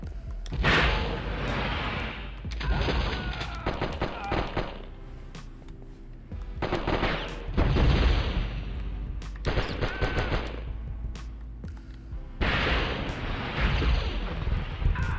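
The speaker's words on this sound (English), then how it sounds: "on super high, so I could actually feel those explosions in my brain." Rapid explosions and gunfire bursts in the video game Die Hard Trilogy: Die Harder, loud dense blasts arriving in several heavy waves with brief lulls between them.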